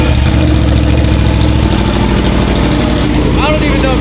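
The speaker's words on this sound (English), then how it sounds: "I'm just gonna let it run because, you know, the new exhaust and all that" A motorcycle engine with a new SC GP22 exhaust idles loudly and steadily with a deep, throaty rumble throughout, a brief rising whine near the end.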